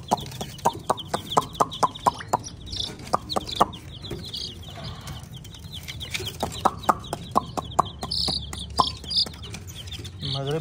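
Colorful chicks on a rooftop at dusk chirp and cluck in quick, sharp bursts while being gathered into a cage, with faint rustling and a voice in the background.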